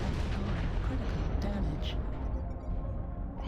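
Weapons fire hits a mech in the MechWarrior Online video game: a steady roar of rumbling, booming gunfire and impacts fills the whole stretch, dense and continuous, while someone talks over it.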